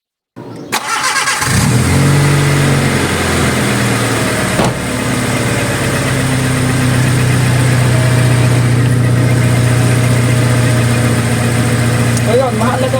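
A Honda Civic engine with newly replaced spark plugs cranks and catches, then settles into a loud, steady idle close by, with a brief mechanical knock midway.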